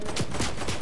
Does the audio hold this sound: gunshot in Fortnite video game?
yes